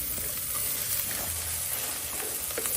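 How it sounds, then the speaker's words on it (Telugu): Chopped cabbage with coriander and mint being stirred in a hot pan, giving a steady close sizzle and soft frying hiss with faint scraping throughout. "ఇప్పుడు కొద్దిగా కొత్తిమీర, పుదీనా వేసి కలుపుకొని తరిగిన క్యాబేజ్ తీసి కలుపుకోవాలి"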